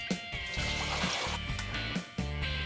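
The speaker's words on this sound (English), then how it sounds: "Pour the water in." Water pours and trickles into the water pan of a smoker, a steady nearby liquid stream with a few brief breaks, heard alone.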